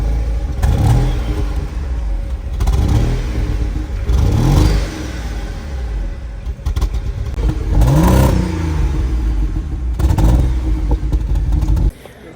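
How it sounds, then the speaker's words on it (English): A car engine is revved repeatedly at close range to blow carbon out of the exhaust, with roughly five rising and falling bursts over a constant loud idle rumble. "a little bit of RPM here if you want to watch the back of the car here"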